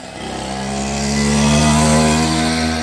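An Avanti X-Bike motorcycle engine runs steadily nearby, its harmonic drone rising slightly in pitch as it revs up and then settling, with no talking.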